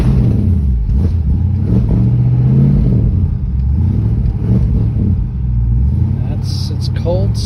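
A 1963 Ford Falcon Futura engine is started cold and revved, its low rumble running steadily throughout with people talking over it.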